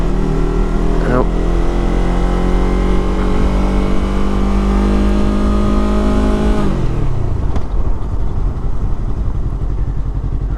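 A 2019 Yamaha R3 motorcycle engine drones loudly and steadily, rising in pitch through a gear, then dropping sharply near the end before picking up again, with wind and road noise throughout.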